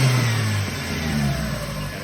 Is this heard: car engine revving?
yes